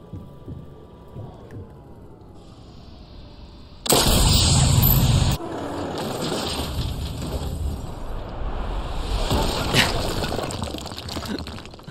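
A single loud crack from a precision sniper rifle in GTA Online rings out as a sustained blast, then fades into a steady rumble of game ambience.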